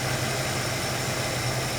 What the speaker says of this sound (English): again the revs are dropping because it's now got far too much petrol for the amount of air going in.